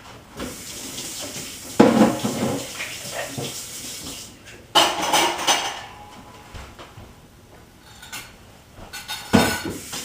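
Coffee-making devices used for a home caramel macchiato are rinsed under a running tap, with water splashing in bursts and occasional clinks of the pieces against the sink.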